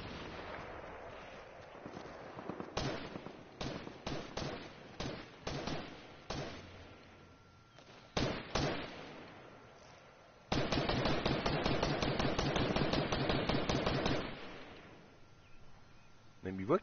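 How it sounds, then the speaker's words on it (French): Gunfire in a Fortnite match, including distant sniper shots: sharp single reports and short bursts, then a sustained rapid stretch of automatic fire, with brief speech between the shots. "Ah, sniper au loin, je pense."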